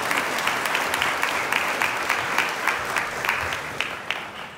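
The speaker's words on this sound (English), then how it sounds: "give a round of applause" Sustained audience applause fills a hall at a Carnegie Mellon Tepper class gift presentation, a dense steady wash of many hands clapping with sharper individual claps standing out, close and loud throughout.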